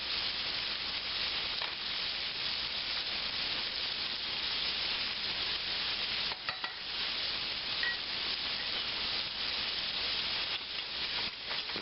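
Flour cooking in melted butter and peanut oil in a pan gives a soft, steady sizzle with faint stirring scrapes, one brief clink, and no talk.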